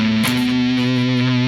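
Distorted electric guitar playing a stoner rock pentatonic riff, with a sustained fuzzy low note ringing into the next one after a brief pick attack, loud and close, with no talking.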